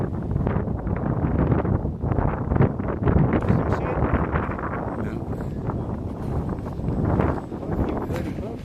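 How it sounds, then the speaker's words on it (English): Strong wind blowing outdoors on a boat trip at sea, a steady loud rushing buffet against the microphone throughout, with people talking underneath. "the wind's come up suddenly"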